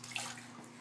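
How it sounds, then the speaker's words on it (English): Baby splashing his feet in bath water, a short burst of close, wet slaps and sloshing in a tub. "Look at him splashing those feet."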